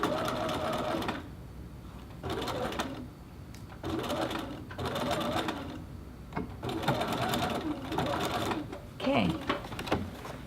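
A domestic sewing machine stitches the lining along a little girl's dress neck edge in several bursts, starting and stopping with short pauses between runs, close and steady, with faint handling noises.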